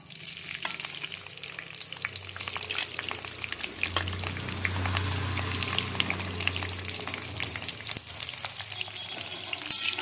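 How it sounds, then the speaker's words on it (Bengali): Red chillies frying in hot oil with black cumin for a chilli pickle, a steady crackling sizzle with scraping stirs, close and continuous without talk. "আর লঙ্কাটাকে আমি ভেজে নেব"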